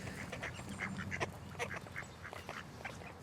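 Several ducks quack in short, scattered calls at a park lake on a rainy day, moderately close over a steady low background murmur.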